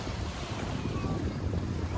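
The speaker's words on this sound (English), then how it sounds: "we do have a nice cool breeze blowing through" A cool breeze blows steadily across Barrio Barretto Beach, producing loud, continuous wind rush against the microphone with surf noise mixed underneath.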